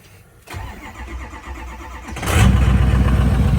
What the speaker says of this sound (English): I'll start the truck up for you guys, let y'all listen to it